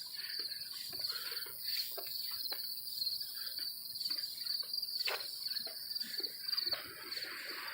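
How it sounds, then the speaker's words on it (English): Crickets chirp near a road crossing along Route 59 in Akron, Ohio, a steady high-pitched pulsing trill in regular bursts, with faint passing sounds underneath. "the crickets are pretty active over here."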